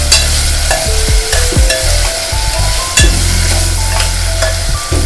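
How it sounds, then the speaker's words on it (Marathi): Potatoes stir-fried in a hot pan for a Maharashtrian onion-potato curry, a loud continuous sizzle close up with a spatula scraping and stirring through it in repeated strokes. "बटाटे 1 ते 2 मिनिट परतून घ्यायचे."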